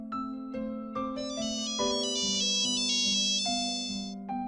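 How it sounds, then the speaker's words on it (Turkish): Melodic telephone ringtone playing a bright, looping tune of synthetic tones, clear and steady with no talking, set in a Minecraft story. "Telefon çalıyor dur açayım."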